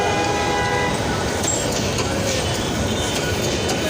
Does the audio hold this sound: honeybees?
no